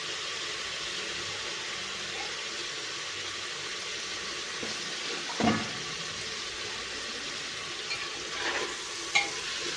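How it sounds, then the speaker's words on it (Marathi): Potato, cauliflower and carrot pieces sauté in masala in a pan, giving a low steady sizzle with a few soft stirring scrapes. "तर थोडंसं आपल्याला या मसाल्यामध्ये भाज्या आपल्या परतून घ्यायच्या आहेत"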